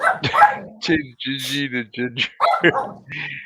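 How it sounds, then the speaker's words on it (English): A pet dog barks and yips a few times close by in a home, mixed in with people talking over it. "That was my dog."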